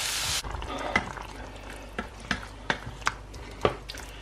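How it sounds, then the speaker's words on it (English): Onions and mushrooms with mixed herbs sweat in a pan with a soft, low sizzle. A few sharp utensil taps land near the start and end, close and quiet, with no talking. "I'm just sweating off the onions, mushrooms, with all the different herbs at the moment"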